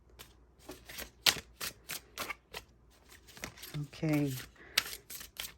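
Tarot cards are shuffled in crisp, repeated riffling bursts and snaps at close range, irregular in rhythm, with a person briefly speaking partway through.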